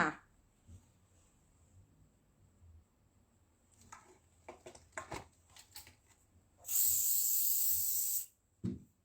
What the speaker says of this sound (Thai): เวลาฉีดสเปรย์ก็ห่างกันหนึ่งฟุตนะคะ